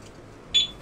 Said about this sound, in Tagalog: Ayan, nag-alarm na.